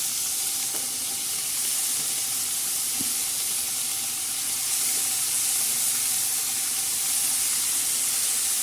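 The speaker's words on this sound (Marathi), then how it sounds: "तर आता मैत्रिणी आपण याच्यामध्ये शेंगा टाकणार आहोत." Washed flat bean pods (ghevda) hit hot tempering oil in a pan and sizzle loudly and steadily, a dense continuous hiss with a couple of faint stirring clicks, no voices.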